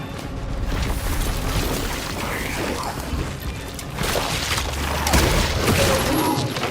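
A loud barrel explosion in the horror game Cronos erupts as a dense, crashing burst amid continuous noisy game action, with a second swell of booming debris and rumble toward the end.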